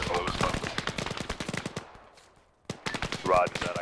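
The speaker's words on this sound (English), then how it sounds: "we are also taking heavy enemy fire" Rapid bursts of heavy automatic gunfire crackle densely in an Arma 3 military battle, dropping briefly to near quiet before loud firing resumes at close range.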